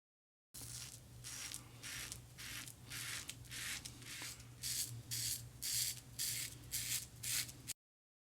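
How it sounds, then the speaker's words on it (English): A Rockwell T2 safety razor set to 6 scrapes across stubble in close, raspy strokes, about a dozen regular passes, each a bright crackling rasp. "Hear the blade difference, the sound in the razors?"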